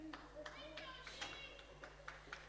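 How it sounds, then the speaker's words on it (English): Players of the Exeter Chiefs women's rugby team clap at a Premier 15s match against DMP Durham Sharks. Sharp, separate claps come at an irregular, fairly quick rhythm under a commentator talking over a steady background hum. "Raft of claps there from Chiefs."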